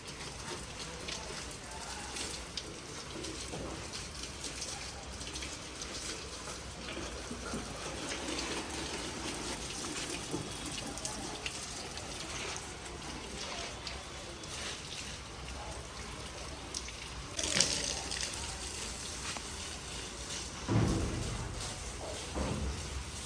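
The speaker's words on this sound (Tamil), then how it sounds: "நம்ம செடிகளுக்கெல்லாம் தண்ணி அடிச்சுக்கலாங்க." Water gushing and splashing steadily while garden plants in a home garden are watered, a continuous moderate hiss with a few louder knocks and bumps near the end.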